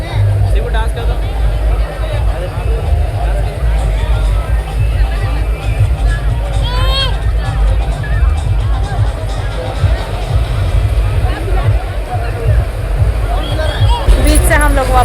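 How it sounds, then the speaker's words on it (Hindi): Dense crowd hubbub at Calangute beach in Goa, a steady wash of many overlapping voices with a constant low rumble and scattered vehicle or boat noise, loud and unbroken throughout. "बीच से हम लोग वापस आ गए क्योंकि बहुत शोर हो रहा है और इतनी ज़्यादा भीड़ भाड़ में अच्छा नहीं लगता है"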